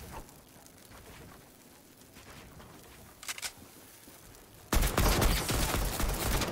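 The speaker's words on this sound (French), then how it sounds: "C'est tellement de la merde cet AK," Loud, sustained automatic AK rifle fire in Fortnite erupts late, after a brief earlier burst of shots over quiet game ambience.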